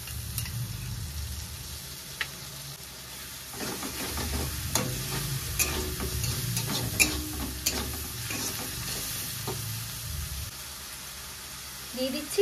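Sliced onions with salt and ginger-garlic paste fry in a pan, a steady soft sizzle with scraping stirring strokes of a spatula, close and moderate in level, with a person talking over it.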